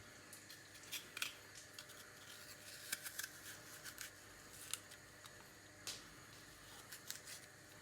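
A small knife cuts the cores out of peeled apple halves, giving repeated quiet scraping and crisp snipping taps in an irregular rhythm, close by, with no talk.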